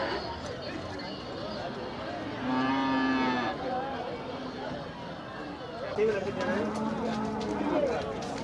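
Cattle low and moo in a busy livestock market in Manapparai, with one clear sustained moo mid-clip and another later, amid crowd chatter and bustling background noise.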